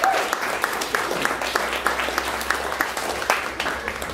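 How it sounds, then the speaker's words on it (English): Audience applause at a story slam, a dense wash of clapping from a crowded room that holds steady throughout, with sharper individual claps popping out of the mass. "Let's give him another round of applause."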